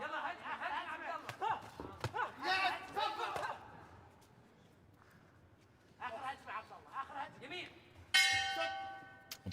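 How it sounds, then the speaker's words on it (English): A boxing ring bell rings out at the close of a round during a youth world championship bout in Kielce, a bright sustained clang near the end following a commentator's voice over arena noise. "There goes the bell."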